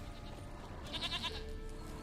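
A goat bleats once, briefly, in the video game The Witcher 3, a short nasal cry near the middle over quiet game ambience.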